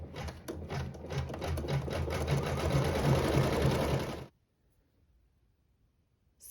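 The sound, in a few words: embroidery sewing machine stitching decorative stitching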